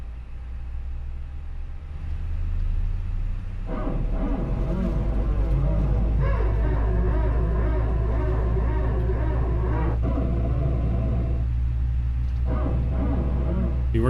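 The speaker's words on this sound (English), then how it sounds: "We're going to go ahead and fire up engine number 1." Engine number 1 of an A321neo spools up in Microsoft Flight Simulator, a low steady rumble that swells into a loud, sustained turbine drone with a rising whine, close and continuous.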